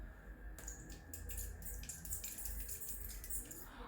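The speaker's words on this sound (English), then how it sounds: "So I'm gonna use some thermal spring water." Thermal spring water sprays onto a face in a series of short, hissing mist bursts, quiet and close, without any talk.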